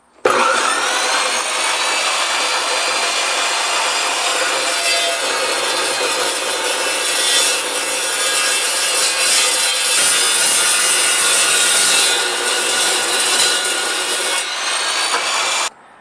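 An Evolution EVOSAW380 metal-cutting saw slices through roughly 1.5-inch square steel tubing, a loud, steady, high-pitched whine and grind running nearly unbroken for the whole stretch before stopping abruptly.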